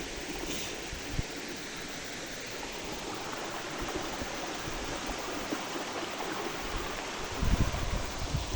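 Seaside ambience of waves washing on the shore, a continuous broad rush that stays steady and fairly close, swelling a little near the end, with no talking.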